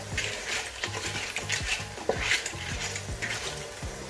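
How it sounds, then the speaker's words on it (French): Seafood linguine with cockles gets stirred in a hot pan, with scraping, clinking strokes of the utensil against the metal repeating over a steady sizzle. "On continue de remuer de temps en temps."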